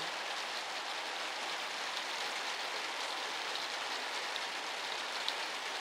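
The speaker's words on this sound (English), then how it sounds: "I need a good steady rain for about an hour." Steady rain drumming on a newly built roof, a dense even hiss with scattered drops, no voices.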